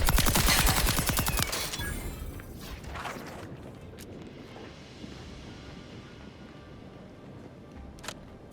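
A weapon in Outer Worlds 2 fires a rapid, loud burst followed by mechanical clicks and clacks of a reload, then a quieter stretch with a single sharp report near the end.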